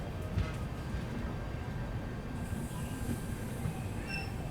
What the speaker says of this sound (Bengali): একেবারে অন টাইমে আমাদের ট্রেনটি ছেড়ে দিল